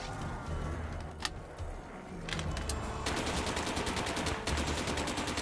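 Light machine gun fire in a plague-survival shooter game: bursts and sputtering shots early, then a sustained rapid automatic stream from about three seconds on, loud and close.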